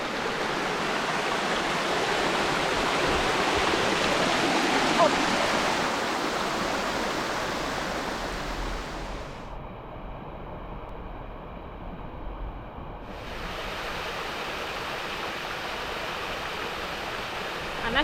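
A mountain waterfall and stream near Gelendzhik pour with a loud, steady rushing roar close by, the wash easing briefly midway before building again; one short voice exclamation is heard.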